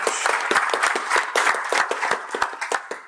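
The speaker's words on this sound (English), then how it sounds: "could I just ask for a final round of applause for our incredible speaker liaison team, Steve, Alan, all the rest of the guys" A conference audience claps in a short burst of applause, the sharp individual claps close and uneven, fairly loud and with no talk over them.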